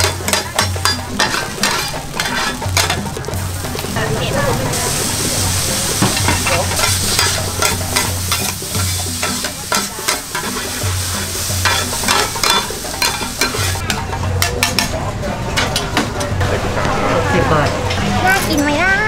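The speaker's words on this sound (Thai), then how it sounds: "ภูเก็ตทั้งทีก็ต้องโอเต้าหอยนางรมกระทะร้อนกันหน่อยค่ะ" Oily sizzling of an oyster omelette frying in a hot pan at a Phuket food market, steady and close, with spatula scrapes and busy crowd chatter in the background.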